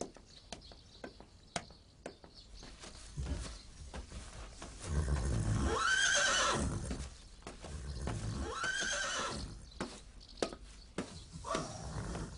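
Horses at a riding stable in Istanbul give two long, loud whinnies a few seconds apart, each swelling and fading, with scattered hoof knocks and clicks around them and no talking.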